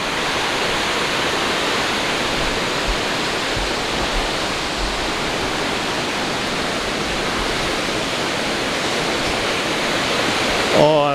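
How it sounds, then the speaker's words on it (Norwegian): Water pours over a river dam in a forested summer landscape, a loud, dense and unbroken rushing roar that stays steady throughout and sounds close by. "Og en veldig fin elv."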